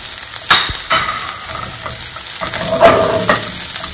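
Garlic and onions sauté in a pan for beef stroganoff, with steady sizzling frying and a few sharp scrapes and clinks of stirring, close and fairly loud with no voices.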